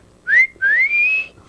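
A person whistles an imitation of their father's calling whistle: two rising tonal phrases, a short upward swoop followed by a longer, sustained rising note, close and clear with no talk.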